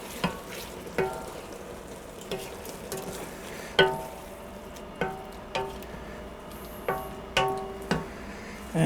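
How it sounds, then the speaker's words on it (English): A spoon stirs salt and pepper through a pot of Tuscan beans and sausage, giving a series of regular scraping, knocking strokes roughly every second over a low simmering sizzle, close and fairly clear. "Give that a stir."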